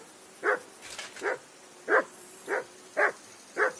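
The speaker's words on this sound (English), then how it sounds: "I assume you can hear that damn dog of yours barking." A dog barks in the medieval game world of Kingdom Come: Deliverance 2, giving six or seven sharp, evenly spaced barks at close range over a quiet background.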